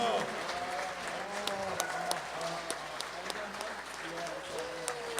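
An audience applauds a comedy competition winner, moderate clapping and crowd noise running throughout while a voice talks over it.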